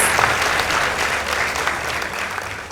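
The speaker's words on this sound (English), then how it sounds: "Let's give them a round of applause." A school debate audience, Malava Boys High School against A S K Musoma Mixed School, applauds the announced results with a brief, full burst of clapping that holds steady and then tapers slightly.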